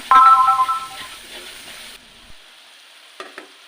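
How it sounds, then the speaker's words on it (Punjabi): Tadka tempering sizzles loudly in a pan as the spices fry, a bright crackling burst that eases after a couple of seconds into quiet kitchen sounds with a few faint clinks. "ਤੜਕਾ ਜਿਹੜਾ ਆ ਉਹ ਮੇਰਾ ਚੰਗੀ ਤਰ੍ਹਾਂ ਭੁੱਜ ਗਿਆ ਆ"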